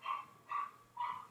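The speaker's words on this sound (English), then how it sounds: "my dogs are barking upstairs." Dogs bark upstairs in three evenly spaced, sharp yaps, faint and muffled as if from another floor, with no voices over them.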